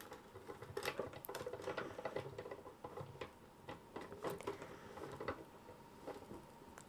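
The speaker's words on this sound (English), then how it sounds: "roll it twice forwards and backwards through your die cutting machine" A sticker sheet rolled forwards and backwards through a die cutting machine at a craft table, giving steady clicking, rattling mechanical noise with quick ticks throughout, moderately close and alone.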